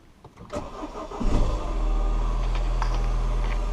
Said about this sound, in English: Engine sounds okay.